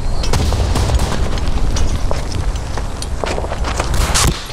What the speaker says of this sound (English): Machine gun fire on my right.